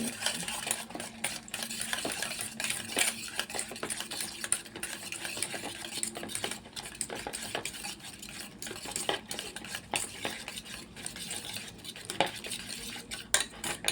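Eggs with onion, tomato, green chilli and coriander beaten in a bowl for egg paratha, a continuous rapid clatter of utensil against the bowl, close and steady, with no talking.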